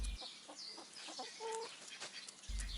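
Several backyard chickens clucking softly and irregularly at close range, short scattered calls while they gather around grain tipped out near a jar, with no one talking.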